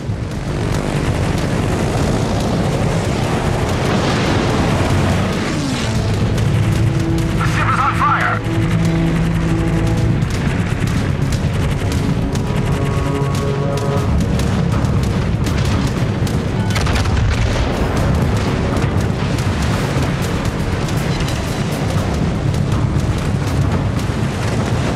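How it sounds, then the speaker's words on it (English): Deep booming explosions and rumbling blasts sound as an enemy destroyer sinks in World of Warships, heavy and loud throughout with layered battle noise and a sharper burst partway through. "Sunk an enemy destroyer."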